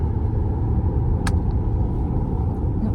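Steady low engine rumble and road noise from inside a car driving along a mountain road, continuous and fairly loud, with one brief high squeak partway through and no talking.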